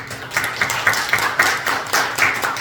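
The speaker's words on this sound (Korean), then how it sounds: "다 함께 찬양의 박수를 올려드리십시오." A church congregation at a Sunday worship service claps in praise, a rhythmic, evenly spaced beat of many hands clapping together in time, fairly close and loud.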